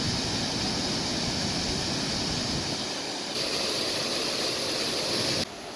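Small waterfall spilling down a clear creek in Oregon, a steady broadband rush of falling water with no pause, close and fairly loud, with a slight change in tone partway through.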